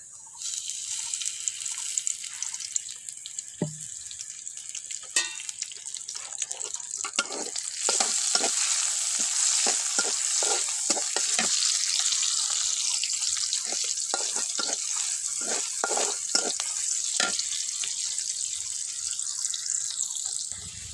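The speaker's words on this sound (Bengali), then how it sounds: "তো আমি থোরটা ভাজি করে নিই।" Banana stem frying and being stirred in a pan, a steady broad sizzle with repeated scraping stir strokes that grow busier partway through, close and continuous with no talking.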